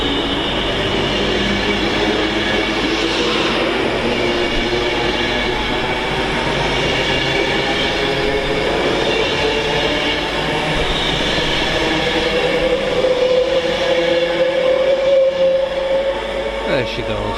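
A train bound for Edinburgh Waverley runs through Stafford on the West Coast Main Line, sending a loud, sustained rumble of wheels and passing carriages with rising tonal squeals and whines near the end.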